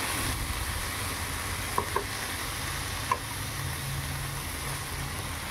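Spice paste for a cucumber shukto being stirred in a frying pan, a steady low sizzle with a few sharp spoon clicks against the pan, close and alone without talk.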